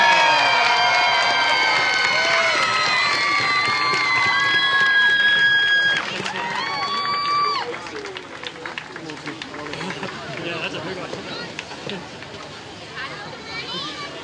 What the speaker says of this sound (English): a big round of applause, please, for Henry